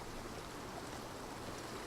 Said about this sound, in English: The water's just slowly pushing me downstream.